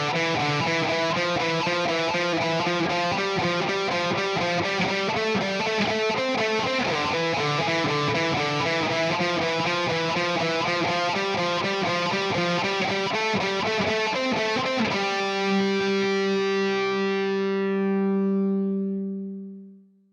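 An electric guitar plays driven, distorted chords through an ML Sound Lab ML800 amp preset with delay and reverb added, strumming steadily before a final chord rings out and fades with a spacey tail.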